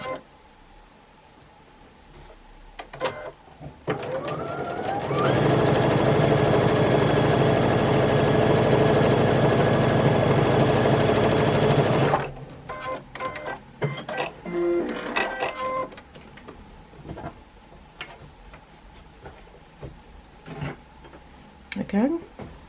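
A sewing machine stitches quilt fabric pieces in one steady whirring run of about seven seconds, loud and close, with talking and handling noises before and after.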